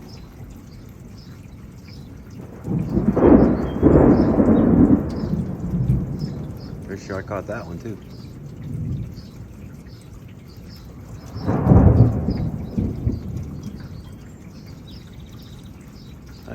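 Deep thunder rolls in a dark thunderstorm, building into a long rumble around three to six seconds and cracking again near twelve seconds, with softer rumbles in between over faint rain; someone speaks briefly.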